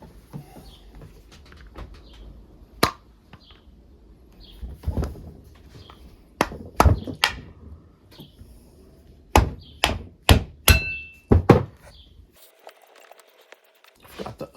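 Metal parts of a Redmond fan motor being taken apart, with a run of sharp clicks, taps and clatters, some isolated and some in quick bursts, close and fairly loud against a quiet background.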